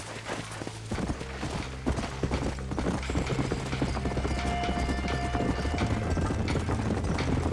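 Hooves clip-clop steadily in Red Dead Redemption, a brisk rhythmic trot with creaking tack, carrying on throughout over low rumbling ambience.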